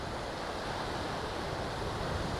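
Surf rolls onto deserted Punta Chame Beach in Panama under dark clouds, a continuous broadband wash of breaking waves mixed with wind rumble on the microphone.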